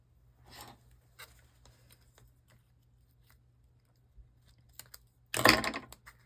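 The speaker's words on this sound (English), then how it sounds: "I slam my scissors down" Quiet scattered tapping and rustling on a tabletop during card-making, then a sudden loud clattering thud as a pair of metal scissors is slammed down hard onto the table.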